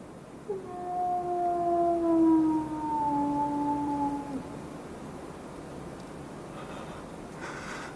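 A hound's eerie, long howl drifts across the moor as a radio drama effect, a few layered wailing tones gliding slowly downward for several seconds, distant and mournful, then fading into quiet ambience.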